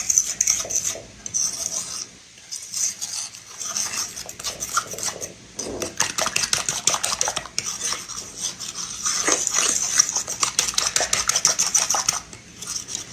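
An old fork beats self-rising flour into batter in a bowl for a Southern onion pie, scraping and clinking against the sides in fast, steady strokes that run almost without pause, loud and close.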